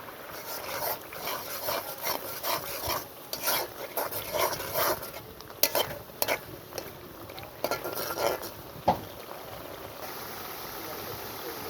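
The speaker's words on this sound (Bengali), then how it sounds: "আদা রসুন ভাজা হয়ে গেলে" Ginger and garlic paste fries in a pan under a soft sizzle while a spoon scrapes and taps against the metal in uneven strokes, fairly quiet and close.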